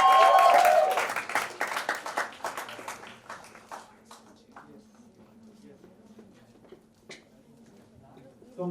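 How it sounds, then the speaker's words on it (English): An audience at a college event claps loudly at first, then the applause thins into scattered individual claps that trail off, with a voice briefly heard near the end. "Guys, big round of applause, come on."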